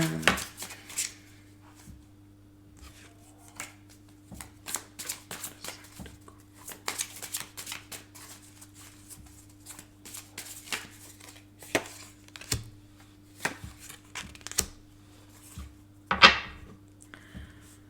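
Tarot cards being shuffled and drawn on a table, scattered soft slaps and riffles in irregular bursts with a sharper snap near the end, close and fairly quiet over a faint steady hum.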